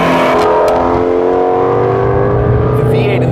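A Ford Mustang Shelby GT350 with its Voodoo V8 revs hard, a loud, close engine note whose steady harmonics climb and sustain through the whole stretch, with a brief shift near the end.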